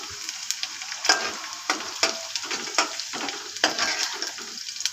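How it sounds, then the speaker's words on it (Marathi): Onion, cumin and garlic fry in a pan with a steady bright sizzle, broken by periodic stirring scrapes about every half second to second, close and continuous with no voices. "कांदा जिरे लसूण आधी लाल करून घ्यायचं"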